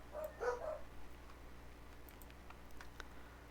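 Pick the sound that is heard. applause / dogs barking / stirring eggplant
dogs barking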